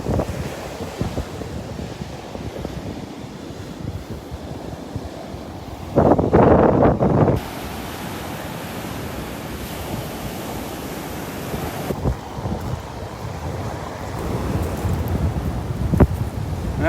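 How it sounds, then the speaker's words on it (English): Surf rolls in at Bowman's Beach on Sanibel Island under heavy wind buffeting the microphone, a loud, continuous roar with gusty surges and no talk. "Bowman's Beach, Sanibel Island."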